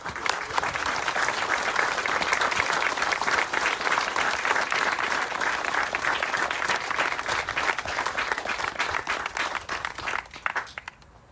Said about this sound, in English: I'd like to propose a healthy applause to our heroes at CMHA who make our community a better place